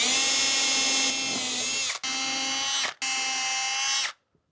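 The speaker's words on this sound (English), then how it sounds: "just checking what depth we need to hit with this drill bit" A power drill spins a bit into a screw hole in three loud whining bursts, each cut off abruptly by brief pauses, ending in near silence.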